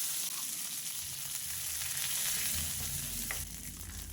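Peanuts, mustard seeds, cumin and curry leaves fry in oil in a pan, a loud continuous sizzle with crackling that shifts slightly as the pan is stirred.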